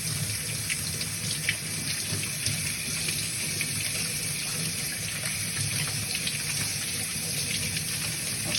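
Tap water runs steadily into a sink while brined chicken pieces are rinsed, a continuous close gushing stream with small splashes and no talk.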